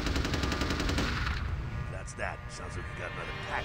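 Rapid machine-gun fire rattles in a steady, dense burst in a modded video game and fades after about a second and a half. A voice then talks over scattered game sounds.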